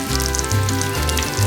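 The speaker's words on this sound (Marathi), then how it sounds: "तेल तापल्यानंतर आपल्याला त्यात ठेचलेलं लसूण घालायचं आहे." Crushed garlic sizzles steadily in hot oil heated in a tava for a crisp surmai fish fry, a close, continuous frying crackle with a low steady hum beneath.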